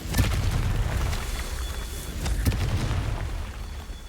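Explosive blasts from the Confringo fire spell in Hogwarts Legacy, deep booms with sharp bursts and rumbling decay, two strong hits a couple of seconds apart over continuous low noise.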